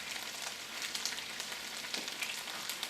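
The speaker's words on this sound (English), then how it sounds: "we're just going to toss our tortillas in for just a couple of minutes" Tortillas warm in a hot pan alongside chicken and peppers, giving a soft, steady sizzle with faint crackles and an occasional stir, low in level and without talk.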